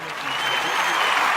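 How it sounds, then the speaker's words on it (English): An audience at a live gathering claps steadily in a dense, continuous round of applause that swells slightly over a short stretch, with no spoken words. "We about to clap it up right now."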